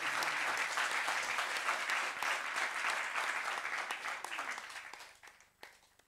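A seated audience at a French-language ceremony gives sustained, even applause, held at a fairly distant, moderate level for several seconds before tapering off to a few scattered final claps.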